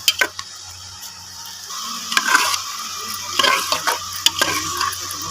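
Bottle gourd (tinda) and meat stir-fried in a cooker, with loud, close scraping stirs and a constant sizzle underneath.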